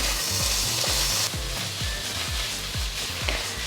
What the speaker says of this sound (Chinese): 醬油下去，給它炝鍋一下，這樣子會更香。 給它翻炒均勻